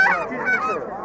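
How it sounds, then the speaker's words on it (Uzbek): Geese honk loudly and repeatedly at close range at a poultry market in Xo'jaobod, with overlapping calls filling the short stretch and no talk. "Mana g'ozlar chiqibdi"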